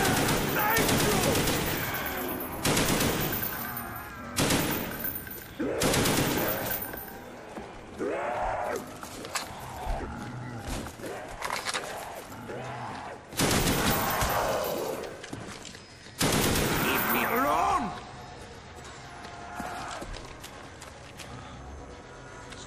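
Gunfire from a weapon in Black Ops zombies mode, with repeated loud bursts of rapid shots separated by short pauses and some quieter action sounds between them.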